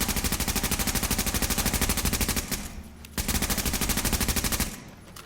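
An AUG rifle in The Division fires long, rapid automatic bursts at a shooting range, loud and close, with a short pause mid-stream before another sustained burst.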